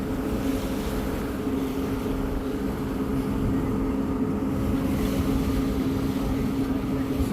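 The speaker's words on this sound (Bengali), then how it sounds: "এখন এই জাহাজটি এখন আমাদের ওভারটেক দিবে" A river launch cruising from Narayanganj toward Chandpur as an oil tanker ship overtakes it: a steady, loud low engine drone with continuous rushing water and wind noise throughout.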